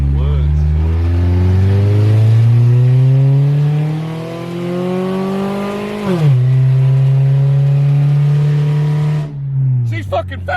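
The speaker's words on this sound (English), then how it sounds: "Did you hear that VTEC?" A 1998 Honda CR-V with a VTEC engine accelerates hard, its note climbing steadily through a long pull, dipping at a shift and then holding, with people talking over it.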